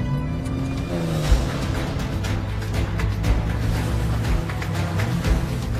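Two or more cars racing along a dirt track in a chase, engines roaring steadily and continuously, with revving surges, skidding and loose dirt, loud and close throughout.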